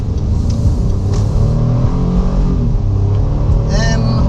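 A 2022 Honda Ridgeline pickup pulling away and accelerating, a steady low engine drone heard from inside the cabin with road rumble, while someone talks over it.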